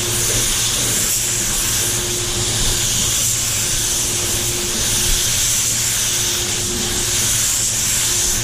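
A spray gun sprays clear coat on a Range Rover Velar at 33 PSI: a steady, loud hissing spray runs continuously with a low hum underneath, broad and even throughout with no pauses.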